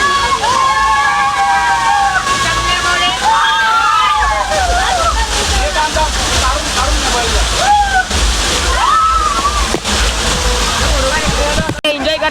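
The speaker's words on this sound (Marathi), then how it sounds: "विरारचा खोटा धबधबा" Artificial waterfall at a Virar water park resort, pouring in a loud, steady rushing slosh, with excited voices and shouts of people playing heard throughout over the water.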